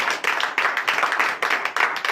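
A congregation claps in acclamation of Jesus during a night deliverance service in Comè, Benin, with loud, dense, rhythmic hand claps in steady bursts.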